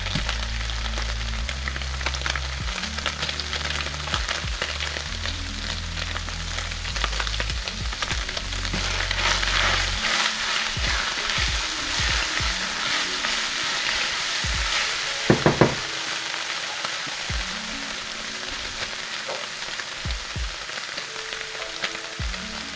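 A nub of butter, about a teaspoon's worth, frying in a pan for saltfish, a loud, steady close sizzle and crackle that runs on continuously, with a few clinks of utensils near the end.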